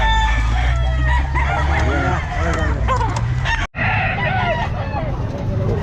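A young gamecock stag crows amid a busy pet market in Calumpit, with several overlapping crows and clucks from nearby fowl over a loud crowd din and low rumble, and people talk in the background.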